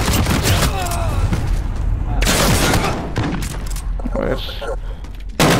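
Gunfire in Call of Duty: Modern Warfare, bursts of loud shots and booms with pauses between them, while players talk over the noise.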